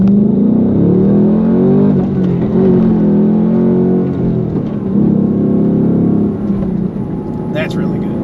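A Ford Mustang Dark Horse pulls hard with a deep, loud engine roar that climbs and falls through shifts. The engine stays close and sits under steady talk from inside the car.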